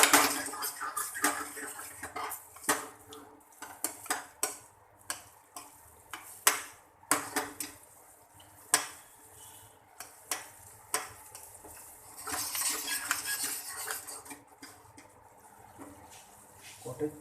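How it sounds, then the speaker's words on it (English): Cottage cheese going into nearly cooked, simmering orange gravy in a pan for biryani, with irregular ticking knocks of a spoon against the pan and a soft, steady bubbling sizzle underneath. "At this stage, when the gravy is almost cooked, we add the cottage cheese."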